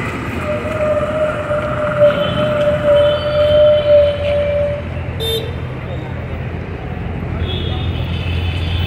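A train at Hooghly main railway junction gives a long, steady metallic wheel squeal over a constant rumble of station and traffic noise, fading out midway through.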